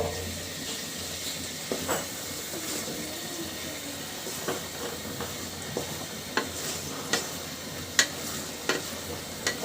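Tengra fish are stirred into spice paste in a pan, with a soft, continuous sizzle under repeated scraping and clicking of the spoon.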